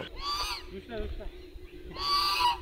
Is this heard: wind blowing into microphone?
no